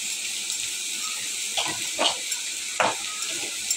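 Potatoes frying in a pan for aloo bhaji, a steady sizzle with a few louder stirring scrapes and bursts, close and loud, no talking.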